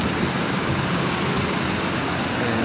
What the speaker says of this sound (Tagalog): blessing din tong ulan na to ngayon